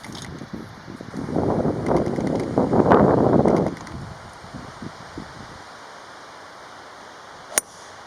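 Wind gusting across a golf course at the Suncadia Resort Prospector Course, a rough blustery roar buffeting the microphone for a few seconds before dying to a quiet outdoor hush with one sharp tap near the end.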